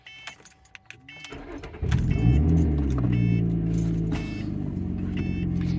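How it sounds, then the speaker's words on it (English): A Lotus Evora is started up: quiet clicks and key sounds first, then the engine catches about two seconds in and settles into a loud, steady idle held close by. "All you have to do is turn the car on."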